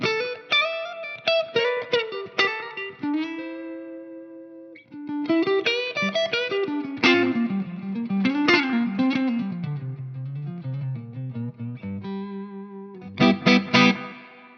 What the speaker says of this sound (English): I'm going to put the delay on now and you'll hear what it's doing.